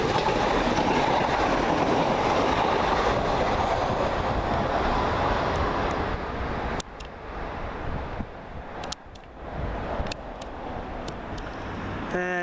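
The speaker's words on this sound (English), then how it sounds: "here comes our train out of here" A London Midland Class 168 passenger train rushes past nearby with a loud roar and rhythmic wheel clatter, then fades to quieter rolling clicks and wind, at Small Heath station.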